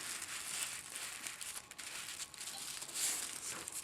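A plastic bag covering a doll's head crinkles and rustles steadily and softly at close range, with a slightly louder burst of crackling near the end.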